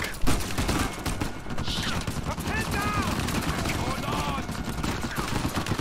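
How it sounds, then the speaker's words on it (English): Sustained enemy gunfire from an Uncharted game firefight, dense and continuous bursts of shots filling the scene, with brief ricochet-like whistles layered over the steady rattle. "Cause this guy keeps on shooting"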